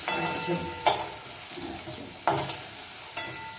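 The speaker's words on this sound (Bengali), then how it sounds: "এবারে ঝিঙ্গাটা জাস্ট একটু সাঁতলে তুলে দিলাম" Sliced ridge gourd briefly sautéing in oil in a pan for a thin katla fish curry with potato and pointed gourd, a soft steady sizzle broken by three sharp stirring scrapes.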